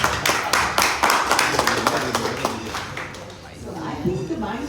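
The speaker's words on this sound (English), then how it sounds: "I'm going to clap if you want." A few people clap their hands at a mental and physical health talk: a short run of sharp, fairly even claps that thins out after about three seconds while a voice continues talking.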